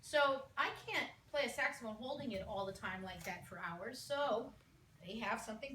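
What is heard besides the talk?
None of the usual background noises is heard.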